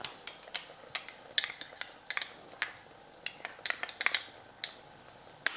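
Yogurt whisked with a metal spoon in a bowl, a fast irregular run of light clinks and taps against the side, close and fairly quiet, with no voices.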